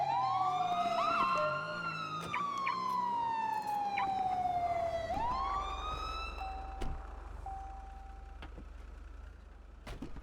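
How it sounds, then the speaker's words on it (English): Police car sirens wail in a GTA roleplay game, a loud rising and falling tone sweeping for several seconds, then cutting to a lower steady whoop and a few short blips before fading under engine rumble. "I'm gonna turn off the sirens."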